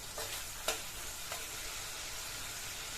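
A turmeric and chili spice paste cooks in oil with a little water, making a soft, quiet sizzle with a couple of brief stirring strokes.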